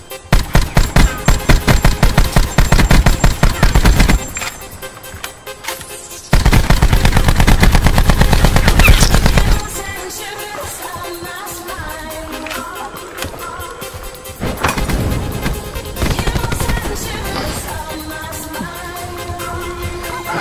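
Automatic and rapid gunfire in Call of Duty Black Ops 4 Blackout, loud sustained bursts of shots with pauses between volleys, alone without talk.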